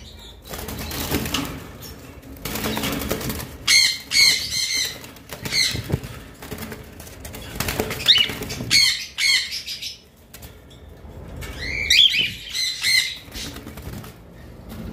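Cockatiels in a cage flap their wings in repeated noisy bursts, mixed with sharp squawks and chirps, loud and close, with brief quieter gaps between flurries.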